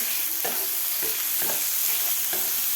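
Chopped onion sautéing in hot oil for anda bhurji, a continuous soft sizzle broken by several regular scraping stirs of the spatula in the pan, fairly quiet and close.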